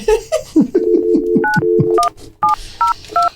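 A cell phone number being dialed, a rapid run of clear keypad tones, loud and close, with a few brief pauses between tone groups and no one talking.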